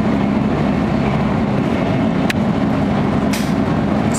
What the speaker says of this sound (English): I think the train slowed down just a little bit for a safety factor.